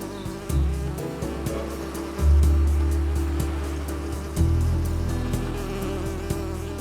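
Worker honeybees buzz around a hive on a building rooftop in central Seoul. The steady insect drone is close, with low city traffic rumbling and swelling beneath it.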